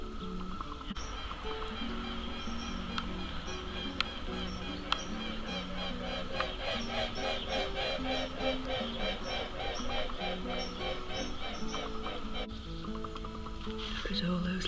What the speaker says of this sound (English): We have some swans doing a circuit or two of the garden.